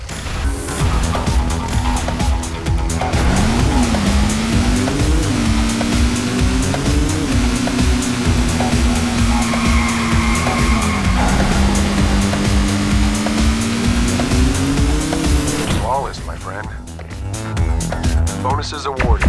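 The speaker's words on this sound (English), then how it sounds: "Achieve maximum score by drifting the car across the wall." Car drifting in the Hot Wheels video game, a loud engine whine rising and falling in pitch over continuous rushing noise, with game music and effects, ending in a short drop-off near the end.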